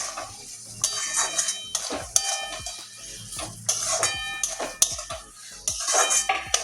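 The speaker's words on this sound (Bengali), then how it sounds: "এই রসুনের কাঁচা গন্ধটা যাওয়া পর্যন্ত কষিয়ে নেব" Red amaranth greens with okra sautéed with crushed garlic in a pan, a spatula scraping and clinking against the metal in repeated strokes over a soft background sizzle, close and clear.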